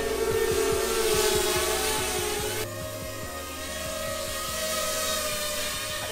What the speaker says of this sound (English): maybe I'm just more used to hearing FPV motors and the regular props, but like, it's significantly louder